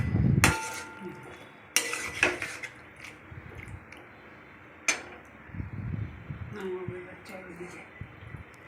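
A spoon stirs a vegetarian potato and papaya curry, sweetened with a little sugar, in a cooking pot, giving a few sharp metallic clinks and scrapes against the pot between quieter stretches of soft movement.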